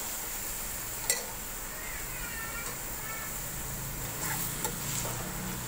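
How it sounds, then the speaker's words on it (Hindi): Chicken fries in a pan for Bombay chicken biryani with potato, giving a steady low sizzle. A few sharp scrapes of a spoon stirring the pieces break through it, and no one speaks. "पहले मुझे इसको खाली फ्राई करना है"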